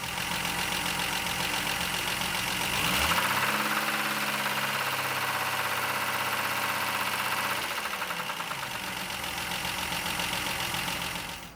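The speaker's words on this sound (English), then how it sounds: "And now I will just start the engine and let it idle" A Ford Granada 2.8i engine idles with a steady, slightly rough hum and mechanical clatter, a lower tone settling in partway through before fading back to the plain idle.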